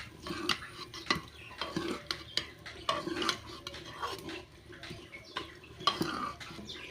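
Fried cauliflower pakoras being stirred into a masala in a pan, with repeated scraping strokes of a spoon against the metal and a faint sizzle underneath, close and fairly quiet.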